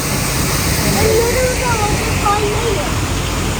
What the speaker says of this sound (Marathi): बघा इथे पाण्याचा आवाज असा वॉटरफॉल आहे इथे